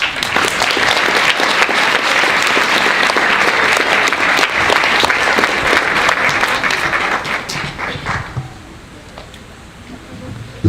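Audience at a 2017 graduation ceremony applauding the graduating class, sustained loud clapping for about eight seconds before it fades away to near quiet.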